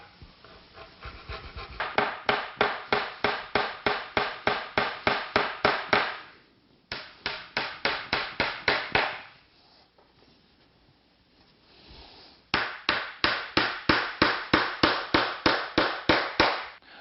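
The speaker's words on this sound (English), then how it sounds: "Before you nail this strip of wood on the back, using a chisel, scrape off any hot melt glue." A hammer drives nails into a strip of wood on the back of a laminate countertop, in rapid, even runs of loud, close blows, three bursts of about a dozen strikes each with quiet pauses between.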